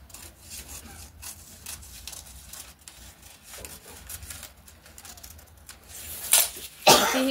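Scissors cut through blouse cloth and a paper sewing pattern in quiet, intermittent snips and rustles, with a couple of sharper, louder crunches near the end.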